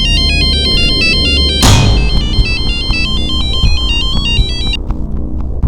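A phone ringtone for an incoming call plays a loud repeating electronic melody for nearly five seconds over a dramatic background score, with a sharp whoosh partway through.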